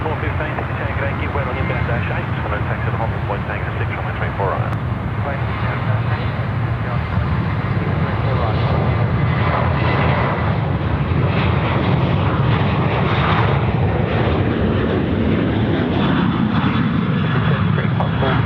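An airliner on final approach to runway 34 left at Sydney Airport sends a loud, sustained engine roar rumbling steadily overhead. Someone talks throughout, partly drowned out by the engine noise.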